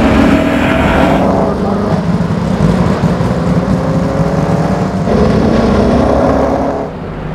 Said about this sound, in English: Somewhere that's never echoed to the sound of its thunderous 3-litre straight-eight engine.